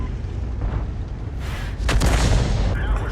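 An M53/M55 self-propelled gun fires a shell in a video game, a single heavy boom breaking over a low rumbling engine drone, followed by a sustained roar.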